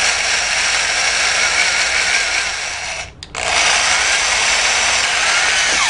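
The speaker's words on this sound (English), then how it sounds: "I probably need a tiny bit shorter drill" A power drill bores into a Super 8 film projector during a light upgrade, a loud steady high whine that cuts out briefly midway and then resumes, with no talking.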